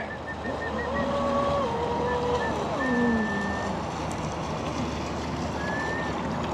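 A Sonicwake RC boat fitted with a Hydra X8 ESC runs on open water, its motor whine rising and falling in pitch over a steady wash of water and wind.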